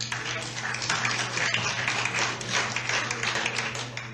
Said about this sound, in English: Please respect the committee. Do not applaud.